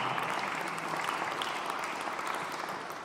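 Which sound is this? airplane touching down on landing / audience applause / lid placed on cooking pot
audience applause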